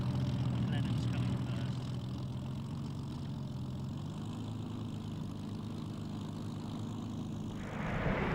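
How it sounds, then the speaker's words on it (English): A Bristol Blenheim, a twin-engine piston aircraft, taxis at the Duxford airshow in 1996 with a steady low propeller drone at moderate distance, partly under crowd noise and talk. "Here we see the Blenheim taxiing into position, dwarfed by the much larger B-17."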